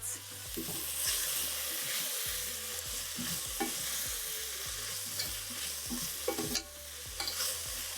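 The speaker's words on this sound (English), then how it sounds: "allow those to saute up for a little while" Vegetables sauté in a pan for ramen soup, a steady sizzle broken by repeated scraping stirs of a utensil against the pan, close and fairly quiet, with no talking.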